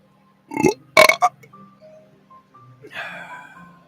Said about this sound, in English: excuse me, life is a burp